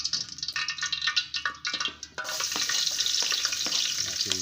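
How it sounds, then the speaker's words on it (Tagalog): Garlic dropped into a hot pan for a chicken dish, first some clinks and scraping, then a steady bright sizzle of frying that continues for a couple of seconds, close by with no talk. "Lagyan natin yung bawang."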